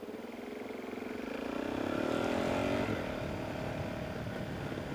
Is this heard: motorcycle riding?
yes